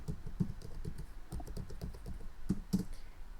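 Quick, uneven keystrokes on a computer keyboard as a password is typed into an Ubuntu server login, a close run of light clicks with a few firmer taps and no talking.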